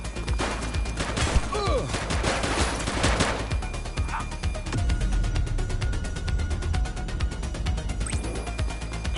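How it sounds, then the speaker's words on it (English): Video game gunfire from a police shootout, heavy automatic bursts and rattling shots running continuously and loudly, with brief radio-like voices and clanks mixed in. "She's shooting!"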